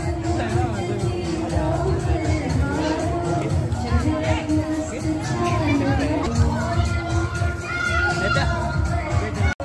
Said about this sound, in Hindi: यहाँ पे भी काफी ज्यादा भीड़ है